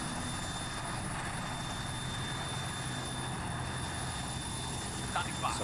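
A helicopter idles steadily in the ARMA 3 military game, a constant broadband engine and rotor drone filling the whole clip at even loudness, with no clear speech.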